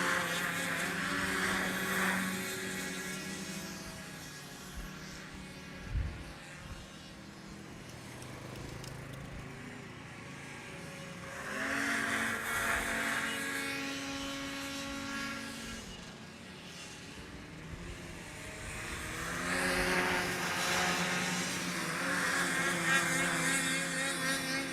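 Racing hovercraft engines at a Whittlebury race meeting drone loudly, swelling and fading as the craft sweep past in roughly three passes, with a sustained buzzing roar between.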